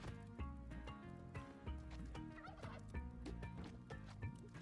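Turkey gobbling in the Spelunky 2 video game, rapid rattling gobbles that sit inside a busy, steady layer of game music and effects, with no talk over it.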